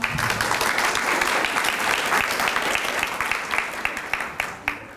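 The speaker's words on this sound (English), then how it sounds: "Please give yourselves a round of applause." Loud, dense audience applause filling the room, sustained and then thinning toward the end with a few last claps.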